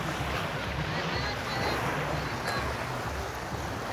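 At a Black Sea beach at Vityazevo near Anapa, a motorboat towing a banana boat sets off, its low engine drone chugging under steady wind buffeting and surf wash, moderately near.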